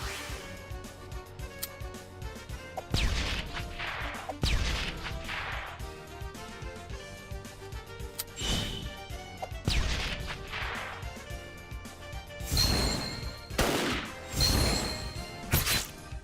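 In the Metal Slug Tactics video game, weapons fire in sharp, punchy blasts, several loud bursts with whooshing impacts layered over a continuous music track.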